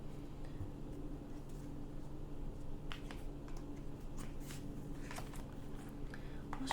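Oracle cards being shuffled in repeated crisp riffling bursts, close and moderately loud, over a steady low hum.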